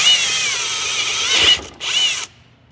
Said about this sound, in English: Well, the drill's rough.